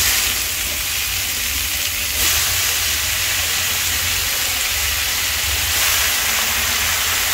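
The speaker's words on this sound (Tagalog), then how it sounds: "Brown na ang ating sibuyas. Ilagay na natin yung ating beef stick, yung karne yan." Beef pieces hit a pan of browned onions and sizzle hard, a loud, dense hiss that holds steady throughout with slight surges, close up.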